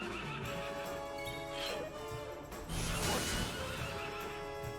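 A horse whinnies loudly amid dense, busy game sounds from Dragon Quest XI S, with a brief crash partway through.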